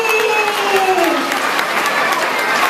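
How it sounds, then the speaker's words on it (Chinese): Brief burst of dense audience applause, loud and close, with a voice speaking over it. "掌声鼓励"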